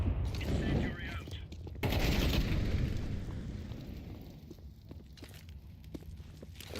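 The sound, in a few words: grenade explosions and gunfire in a video game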